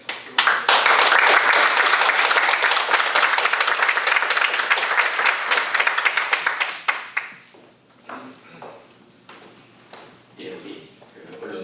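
An audience at a church forum claps in a dense, loud burst lasting about seven seconds, then it thins to scattered claps and a few taps and shuffles.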